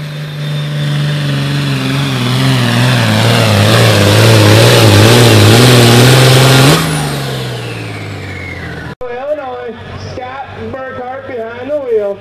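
A John Deere pulling tractor at a 10,000 lb pro farm tractor pull in Platteville, Wisconsin roars loudly, holding a high rev before the pitch drops and trails off, followed by a different engine droning and surging.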